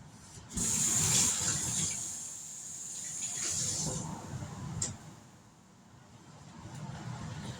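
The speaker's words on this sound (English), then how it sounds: "let me wash my hands off." Hands being washed under a running kitchen tap while making an orange mandarin cake, a loud rush of water for a few seconds, then softer splashing and trickling, fairly close.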